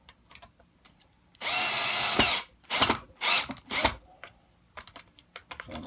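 A power drill drives screws into a guitar body, one longer whirring burst followed by several short pulses as the screws are snugged down, with light clicks and handling noise between, no talking.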